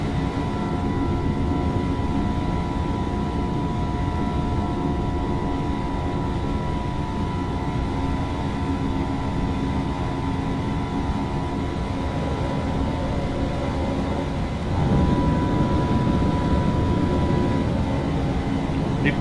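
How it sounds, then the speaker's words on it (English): An Airbus A321 taking off from Kayseri, a steady broad engine roar with tonal whine heard from inside or nearby, sustained and loud throughout, rising slightly in strength near the end. "here is a Kayseri takeoff"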